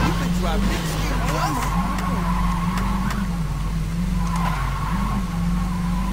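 A car in the Saints Row 2 video game drives with a droning engine note that rises and dips, broken by sharp tire skids and squeals, with a player talking over it throughout.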